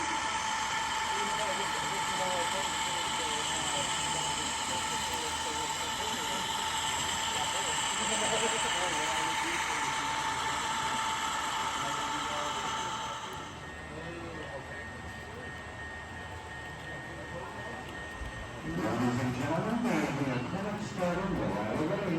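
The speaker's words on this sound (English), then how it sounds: "Here comes the train again." Model train running on the South Olympic Branch layout, a steady mechanical hum and whine with motor tones, continuing under ongoing talk before quieting and shifting near the end.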